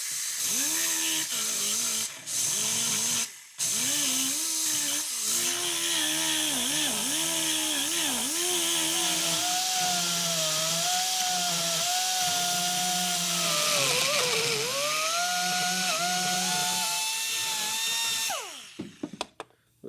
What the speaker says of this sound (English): Grind the threads out, so we're going to fill that all in with weld